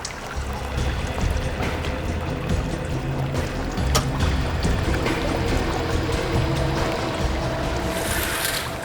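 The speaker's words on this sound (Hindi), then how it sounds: "पानी बहने की आवाज आ रही है।" Water flows and splashes continuously at close range, a dense, steady rush with faint trickling detail throughout, no voices over it.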